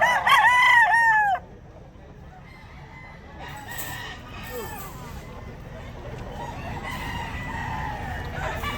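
A rooster crows loudly and close at the start of a cockerel sale in a Filipino market, followed by a busy murmur of crowd talk, with more distant crowing faintly in the background.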